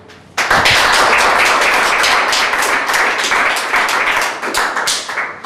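A meeting audience at a San Mateo County Harbor District session bursts into sudden, loud applause after a short quiet lead-in. Dense, close hand claps continue steadily for several seconds, then thin out toward the end.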